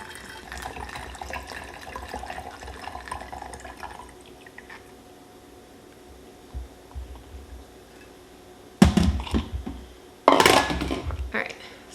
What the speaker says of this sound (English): I'm gonna just pour in my vodka